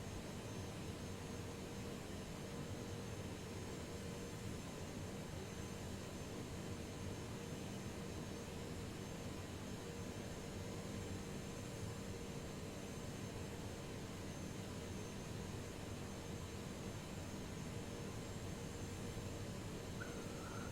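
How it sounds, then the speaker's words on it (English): Airbus A330 engines taxiing in Flight Simulator 2020, heard as a faint, steady jet whine and broadband roar that holds evenly without change throughout. "I'm gonna increase throttling a bit. And we're gonna make a drive to the runway."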